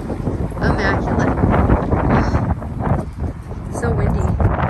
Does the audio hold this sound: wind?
yes